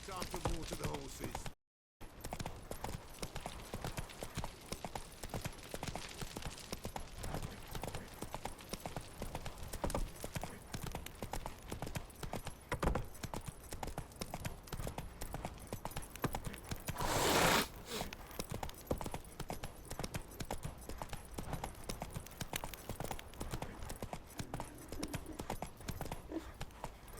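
Horse hooves clip-clop steadily through nearly the whole stretch in The Witcher 3 video game, a continuous mid-level rhythmic clatter layered with game ambience and occasional voices.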